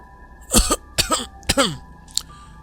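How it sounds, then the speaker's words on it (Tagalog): Three rough coughs in a row, close by, followed by a brief faint click; no speech. "Hindi pa din ba nawawala yung ubo mo?"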